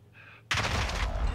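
Loud burst of video-game gunfire erupts and keeps going as a dense, sustained volley after a brief quiet tone.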